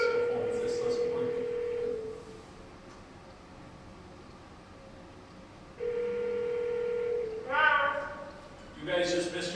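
Tones from a cell phone call during a village board meeting, an electronic tone sounding for about two seconds, then a pause, then a run of further tones at different pitches near the end.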